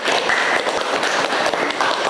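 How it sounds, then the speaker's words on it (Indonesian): Brief, loud applause from a university class, many hands clapping densely and evenly for a couple of seconds. "luar biasa, tepuk tangan Pak Tasya"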